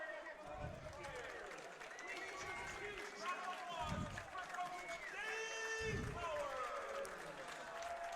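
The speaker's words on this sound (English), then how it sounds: "a big round of applause for head coach Dave Powers" A crowd in the stands at a Fenwick vs. Oak Park-River Forest high school football game applauds legendary former girls basketball coach Dave Powers, a steady wash of clapping and cheering under a commentator's continuous talk.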